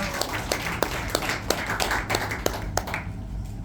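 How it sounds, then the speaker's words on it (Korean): Applause from an audience at a Korean book launch and talk event, a steady patter of hand claps with sharp individual claps standing out, fairly close and filling the room before tapering off near the end. "큰 박수 부탁드립니다."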